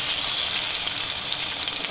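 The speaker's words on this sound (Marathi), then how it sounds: "आणि हे आपण टोमॅटो आहेत ते टोमॅटो पण आता असं ठेवून घेणार आहोत आणि छान आपण भाजून घेणार आहोत" Tomatoes roast in hot oil in a pan, giving a dense, loud, unbroken sizzle that fills the whole short stretch without any talking.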